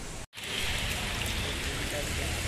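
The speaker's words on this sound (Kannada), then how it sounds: "ಫುಲ್ ಮಳೆ ಬರ್ತಾವನು" Heavy rain pours steadily in a broadband hiss, loud and continuous, briefly cut out near the start, with no talk over it.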